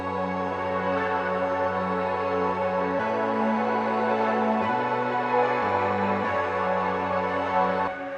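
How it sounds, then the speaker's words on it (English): Sustained synthesizer chords with a bright, layered tone, shifting notes every second or two, playing steadily and fairly loud with no voices. "The synthesizer sound like this."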